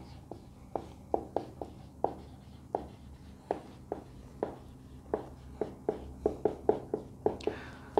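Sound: writing on a board or paper

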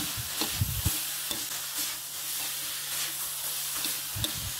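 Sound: stir-frying holy basil with minced pork and pickled bamboo shoots

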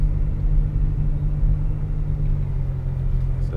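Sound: Nissan R35 GTR pulling away

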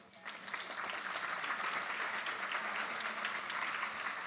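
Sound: audience applause at cancer symposium

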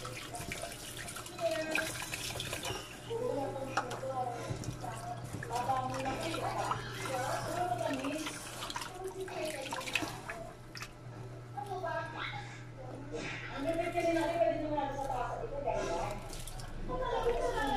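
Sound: tap water rinsing adlai rice

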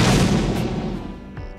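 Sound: car backfire effect made from gunshot and firecracker

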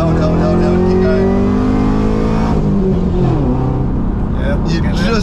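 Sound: tuned Camaro ZL1 accelerating hard from launch

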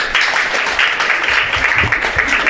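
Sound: audience clapping hands

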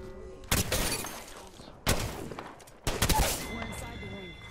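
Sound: gunfire from a video game

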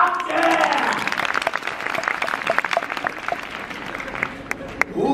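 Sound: crowd applause

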